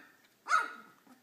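A single sharp bark from a Spinone puppy, about two weeks old, close and fairly loud, with a faint trailing sound afterward.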